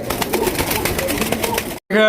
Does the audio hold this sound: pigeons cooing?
yes